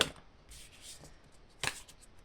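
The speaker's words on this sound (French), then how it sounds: "j'ai envie de tirer une autre carte" Cards from an oracle deck are shuffled and drawn, giving soft papery riffles and a brief sharp card flick near the end, quiet and close with no talk.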